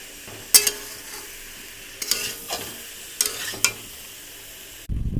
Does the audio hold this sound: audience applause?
no